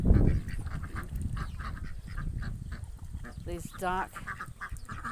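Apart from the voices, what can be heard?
domestic ducks quacking on a farm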